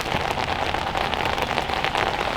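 Steady rain falling outdoors during a bushcraft fire-starter test, a dense continuous patter of drops hitting surfaces close by, with no voices.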